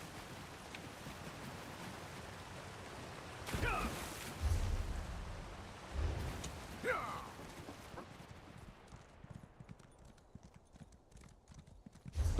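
Horse hooves clip-clop in The Elder Scrolls Online as a mount runs over rough ground, a steady near hoofbeat rhythm with a few louder thuds in the middle, fading toward the end.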